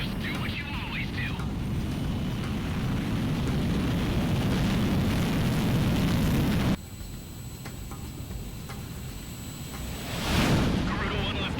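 A jet fighter takes off in the video game Ace Combat 6, a loud, continuous roaring rush that shifts abruptly partway through and ends in a rising whoosh, with radio-style voices talking over it.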